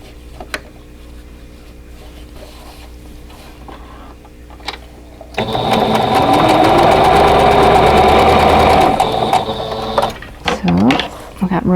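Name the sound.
sewing machine sewing quilt block rows together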